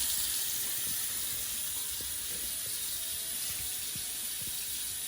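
A hot water tap runs full blast from a Rheem 36kW tankless water heater, a steady hissing rush of water with faint clicks and knocks underneath.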